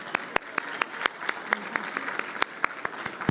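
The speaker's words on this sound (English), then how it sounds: "Give yourselves a hand of applause." Scattered applause from a gathered audience at an equity awards celebration, moderately quiet with distinct individual claps sounding sparsely and steadily across a few seconds.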